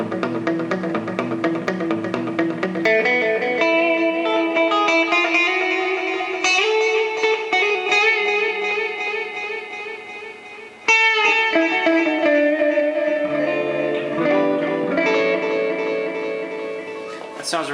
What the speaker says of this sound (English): smooth function is intended to give you a little bit more of a natural room reverb style spatial delay effect